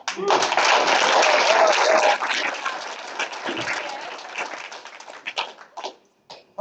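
Audience applause at a web retail award ceremony, a dense burst of clapping that holds steady for a couple of seconds, then thins out into scattered claps and fades toward silence.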